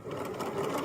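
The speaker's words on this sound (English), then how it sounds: "Now I'm at my dot. I'm going to go ahead and backstitch." A sewing machine backstitching at the end of a seam, a brief close burst of steady buzzing needle clatter, alone without talk.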